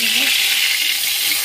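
Cloves, cardamom, cinnamon and bay leaf sizzle in hot oil left over from frying bottle-gourd koftas, a dense, steady hiss with no pauses.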